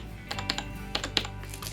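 Keys of a SteelSeries Apex M800 mechanical gaming keyboard are pressed through a small hole in its retail box, giving several sharp, close clicks in an uneven rhythm, with no talking.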